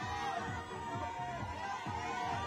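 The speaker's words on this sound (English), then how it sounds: "the crowd are going wild" Distant crowd at the lead final of the UIAA Ice Climbing World Cup in Champagny, France, a faint continuous roar of cheering and shouting with rhythmic clapping pulses underneath.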